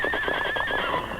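A horse whinnies loudly in a short, clear neigh that rises and wavers, with faint hoofbeats beneath it, staged as a sound effect in an old western radio drama.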